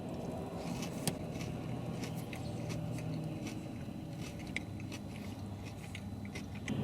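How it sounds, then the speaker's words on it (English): Someone chews Burger King hash brown rounds close to the mic, with soft crunches and irregular clicking bites over a quiet background. "chomp of the hash brown rounds there"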